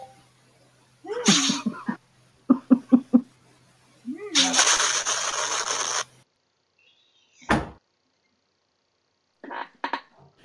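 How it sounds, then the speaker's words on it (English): Sneezing from a character in a video game, several sharp close sneezes in quick succession followed by a longer burst of noise, with short gaps of silence between. "That was dark sneezing and then exploding."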